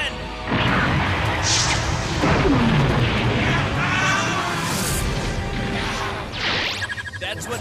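A loud, sustained cannon blast effect from the Yu-Gi-Oh! ZEXAL anime: booming impacts layered with whooshes and crashing debris, continuous and heavy throughout.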